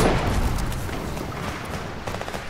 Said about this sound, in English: NPCs shooting somewhere.